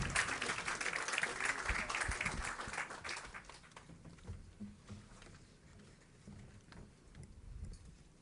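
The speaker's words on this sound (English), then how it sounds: "Let's give them a round of applause" A crowd applauds loudly for a few seconds at the opening ceremony of the Sir Jack Hayward Bridge, then the clapping dies away into a quieter, murmuring room.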